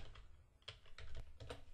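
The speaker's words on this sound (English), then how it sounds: "Again, I'm typing text and nothing goes in there." A computer keyboard is typed on in quick, irregular clusters of soft clicks, close and quiet, with no voices over it.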